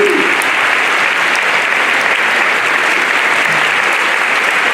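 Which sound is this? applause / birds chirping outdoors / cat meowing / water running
applause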